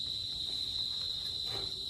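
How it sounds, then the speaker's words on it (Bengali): Crickets chirp at night outside a house, a steady high-pitched trill that runs unbroken throughout, fairly close and clear, with no voices over it. "ঝিঝি পোকার ডাকে মনে হচ্ছে রাত্রি যে কটা বেজে গেছে"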